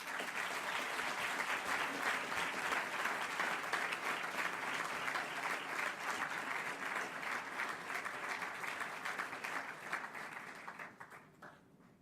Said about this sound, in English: Ladies and gentlemen, a warm applause